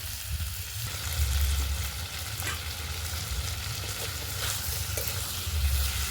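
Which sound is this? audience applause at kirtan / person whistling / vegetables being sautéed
vegetables being sautéed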